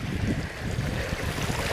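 A wide ford across a path in a Somerset combe, swollen with water running off the hills; a loud, close, continuous rushing wash mixed with wind buffeting, no voices.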